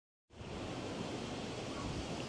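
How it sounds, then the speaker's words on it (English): Big ocean waves breaking at Big Wave Bay in Hong Kong on a windy day, heard as a steady, loud, broadband roar of surf that begins abruptly and continues without pause or voices. "It's a bit windy today, so the waves are pretty big."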